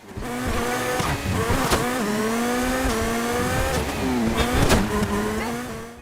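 Overflod Entity XF car driving in a GTA game, its engine holding a steady, loud drone with small pitch shifts and brief bursts of revving, continuous and close throughout.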